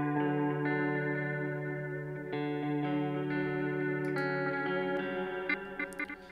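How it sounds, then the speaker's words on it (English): A dry, unprocessed electric guitar track plays soloed, sustained chords shifting through a few changes with a steady, even level and no speech. "This guitar, I recorded it and it just sounded kind of bland, and it just needed something extra, some extra life to it."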